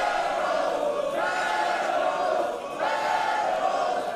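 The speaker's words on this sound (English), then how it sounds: "And the crowd very pleased to see him." Wrestling show crowd cheering and roaring in a large arena, a loud continuous wall of voices that swells, dips briefly and surges again.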